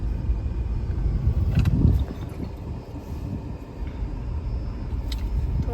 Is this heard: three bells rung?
no